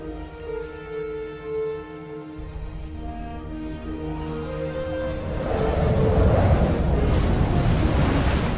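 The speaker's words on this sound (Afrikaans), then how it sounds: "Die volgende oomblik slaan hy met sy mantel op die water en die water het oopgegaan." Rushing water surges as the sea parts, a sound effect of waves and windy roar building from a quieter tonal passage into a loud, dense wash that dominates the end.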